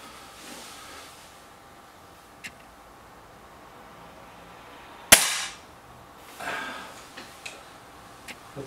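A single sharp crack from an SMK B2 Deluxe air rifle, freshly barrel-cleaned and serviced, rings out alone in a quiet outdoor setting, followed by softer knocks and rustles.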